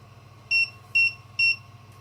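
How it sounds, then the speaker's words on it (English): A sous vide cooker gives three short, clear electronic beeps, evenly spaced about half a second apart, against a low steady hum, with no one talking. "Now it's going to beep again in a second."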